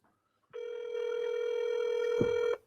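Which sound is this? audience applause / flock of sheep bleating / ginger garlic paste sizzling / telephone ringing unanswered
telephone ringing unanswered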